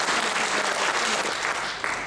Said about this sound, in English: So a round of applause for Chris